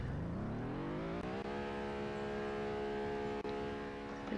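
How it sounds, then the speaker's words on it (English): A car engine revs up, its pitch climbing steadily over the first second, then holds a high, steady roar close by with no talking. "Let's get a few revs in here."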